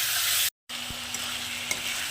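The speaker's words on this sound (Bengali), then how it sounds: "তো চিকেনটাকে এখন একটু হালকা ছাপিয়ে নেব, খুব বেশি ভাজবো না, হালকা একটু ভেজে নেব প্রথমে চিকেনটাকে।" Marinated chicken being lightly fried in a pan, a bright steady sizzle broken by a brief silent gap, then resuming with a couple of small clinks, close up and alone.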